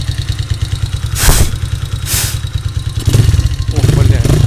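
A KAYO T2 motorcycle engine runs without the choke, a close, loud, lumpy idle with rhythmic low thumping, broken by two brief bursts of broadband noise and rising slightly toward the end.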